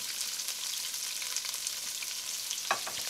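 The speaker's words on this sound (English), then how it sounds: "Now it's time to add the sliced red onions into the pot," Sliced red onions fry in a pot with whole spices, ginger and garlic, a steady close sizzle with light stirring and a brief scrape near the end.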